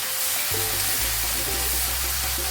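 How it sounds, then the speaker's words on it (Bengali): Ginger and green chilli sautéing in a pan of cooked-down tomato, giving a loud, dense, continuous sizzle with a low steady hum underneath and no voices. "পুরনো আদা আর কাঁচা লঙ্কা দিয়ে দিলাম দিয়ে এটাও ভালোভাবে কষিয়ে নেবো"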